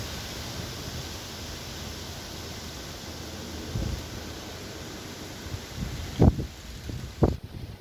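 Outdoor wind blows as a steady broadband rush throughout, with a few louder buffeting gusts striking the microphone near the end.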